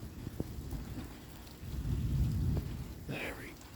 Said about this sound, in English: You would have caught that lightning strike right there, but didn't know it was going to happen.